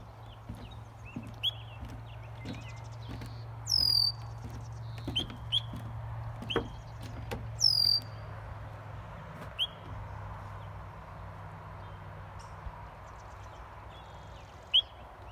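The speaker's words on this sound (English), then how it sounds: "Gotta love these sounds of the birds." Birds outdoors near Mt St. Helens: scattered chirps and calls over a low steady hum, some louder near calls around the middle, with light rustling and footfalls and no talking.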